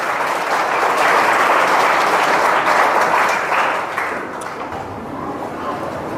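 An audience claps to welcome Atul Bhai Thadoda and his whole family on their first visit to an institution. The applause is dense and sustained, holds steady, and then thins slightly toward the end.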